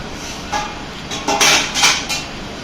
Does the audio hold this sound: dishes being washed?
yes